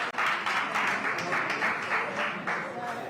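An audience at a Lagos public gathering applauds, a steady mass of scattered clapping that stays fairly faint and even throughout.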